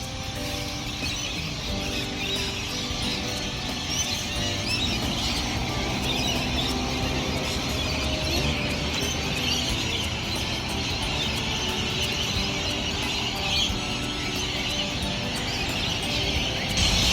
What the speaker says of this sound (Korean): 여기 뒤 나무에 앵무새들이 그냥 꽉 들어찼는데 쟤네들이 지금 회의를 하고 있어 회의.